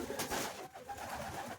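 A pigeon on a farm gives a soft, faint throaty coo, a short low burble heard close by and alone.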